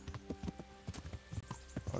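Steady clip-clop of horse hooves walking at an even pace in the video game Kingdom Come: Deliverance, close and clear, with a faint background hum.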